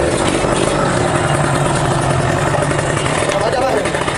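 A motorcycle engine runs steadily in a workshop while it is being tuned, a close, continuous buzzing drone with people talking over it.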